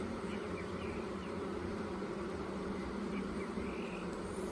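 Honey bees buzzing inside an open beehive during a Dominica hive inspection, a dense continuous hum that stays steady and fairly close throughout, with no talking.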